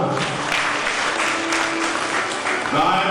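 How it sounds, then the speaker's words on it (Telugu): A church congregation at the St Peter & Paul festival in Dornakal applauds its choir with steady, close, broadband clapping that fills the whole stretch without a break. "వారిని అభినందిస్తూ ఒకసారి చప్పట్లు కూడా."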